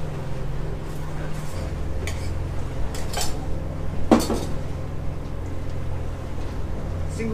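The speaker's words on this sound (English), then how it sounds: "Single shot cafe latte for Denise on table 1." Cups and dishes clink as a single shot cafe latte is made in a galley on a sailing boat at sea, with scattered sharp chinks and one louder clatter over a steady low engine hum, no talking.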